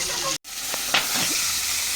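Pieces of fish frying in a pan of oil give a steady, close sizzle for about two seconds, with a brief silent gap near the start and a couple of light stirring clinks.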